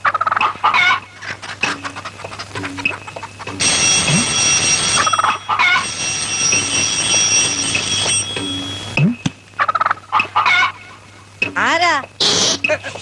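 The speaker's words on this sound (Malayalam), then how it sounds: "ഓ, കോഴിയാണല്ലേ?" A chicken clucks in short, intermittent bursts in an indoor comedy scene, fairly close and loud, alternating with people talking.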